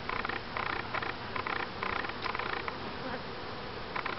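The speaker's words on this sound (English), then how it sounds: "We'll have moved the bees out of the wall." Honeybees buzz close by during a trap-out from a house wall, a steady hum with repeated louder surges as bees fly past the microphone.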